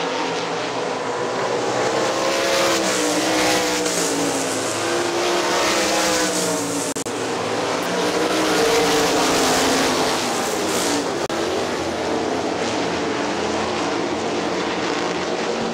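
Sprint cars roar around a dirt oval at Hartford Speedway Park, a loud, continuous engine drone that swells and fades as the pack passes, with no talk over it.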